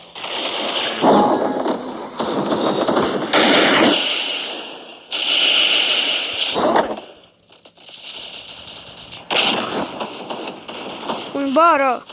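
Gunshots in a shooting video game ring out in sharp, loud bursts and rapid volleys across the stretch, with a person talking over them.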